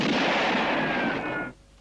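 A gunshot echoes in a spaghetti western standoff, one loud broad blast with a long ringing reverberation that fades out after about a second and a half.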